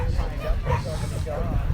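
An 8-week-old puppy at an outdoor obedience demo gives a couple of short, high yips and whimpers amid crowd chatter and nearby speech.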